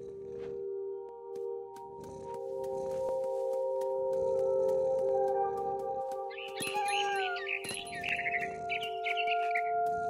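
Bird chirps in the video game What Remains of Edith Finch: soft twittering calls rise near the end over a steady droning ambient hum, with no talking.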